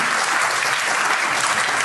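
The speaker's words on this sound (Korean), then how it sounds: "박수 칩니다." A dense, loud wash of audience applause at a school lecture, many hands clapping continuously and evenly with no pauses.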